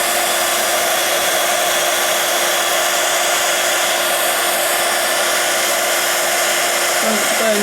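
A handheld heat tool blows hot air onto embossing powder, giving a loud, continuous fan-like roar with a steady whine from start to finish.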